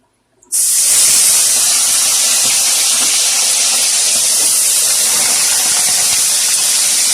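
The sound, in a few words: chicken frying in a pan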